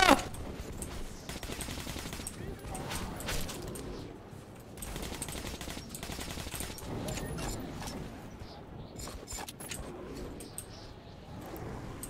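Enemy gunfire in the shooter game Metro 2033 Redux: dense, rattling automatic bursts in repeated waves, loud and close, mixed with game ambience and someone talking at times.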